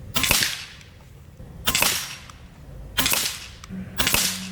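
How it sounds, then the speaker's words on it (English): Four sharp pellet shots from a Benjamin Marauder Gen 3 air rifle in its out-of-the-box tune, about one per second, each a loud close crack with a brief decay. "Here's a sample of the shooting at 50 yards with the out-of-the-box tune"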